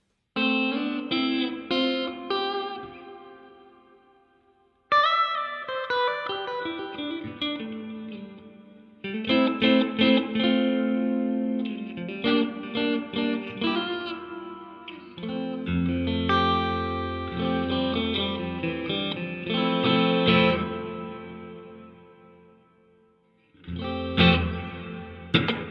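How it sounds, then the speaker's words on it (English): An electric instrument plays through a Donner delay and reverb pedal with its room reverb set to maximum, giving sustained, washy chords and notes with long, blurred tails over about twenty-five seconds, and no talking. "That's pretty good reverb. Let's put it all the way up."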